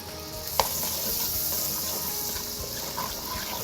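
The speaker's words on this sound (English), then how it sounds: "Another couple of tablespoons of butter right into this hot skillet." Butter sizzling in a hot skillet while onions are cooked for a creamy bucatini pasta sauce, a steady broadband fizz and hiss with a faint clink near the start, no voices.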